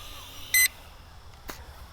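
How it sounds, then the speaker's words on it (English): A single short electronic beep from an MJX RC X708P drone triggering its kill switch, sharp and clear, followed by a faint click against quiet background hiss. "There's a little beep."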